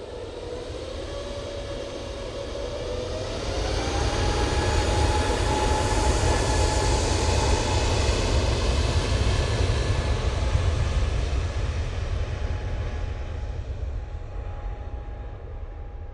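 A jet airliner departing Manchester Airport for Munich, a deep rumbling roar that swells as it climbs past, then slowly fades with a thin whine over the low engine noise, heard alone.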